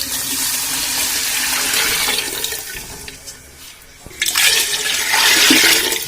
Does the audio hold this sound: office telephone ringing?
no